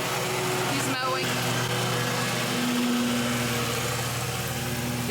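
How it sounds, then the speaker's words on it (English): A lawn mower runs outside with a constant droning engine hum from start to finish, a brief dip near the one-second mark, while a person talks nearby. "So it's loud out here because he's mowing."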